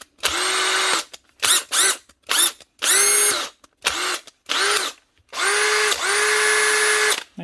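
A small repaired Makita power drill whirring in several loud, high-pitched bursts, revving up and stopping repeatedly with brief silences in between, close by in a workshop.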